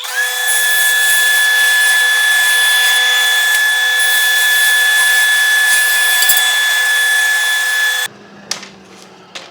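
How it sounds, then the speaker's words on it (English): Power saw ripping wooden boards into 30mm strips for the cross braces of a LEGO table, a loud steady high-pitched whine running for about eight seconds, then cutting off to quieter workshop sounds. "let me cut these down, get the 30mm strips out of them that I need"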